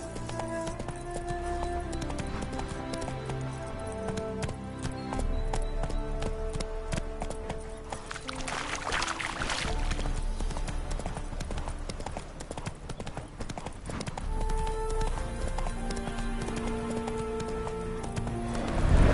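Horse hooves clop at a steady gallop in The Witcher 3: Hearts of Stone, a rhythmic patter running under a full orchestral score with a brief whinny-like swell.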